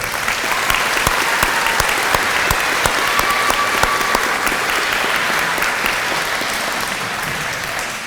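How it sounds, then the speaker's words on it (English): An audience at a school event gives sustained, dense applause for elementary school faculty and staff, a steady wash of clapping that carries on for several seconds with scattered sharper claps. "please give them a round of applause"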